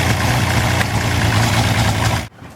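A pre-war Wolseley 14/56 car engine runs at a steady, even idle close by, a loud throbbing rumble that cuts off abruptly near the end.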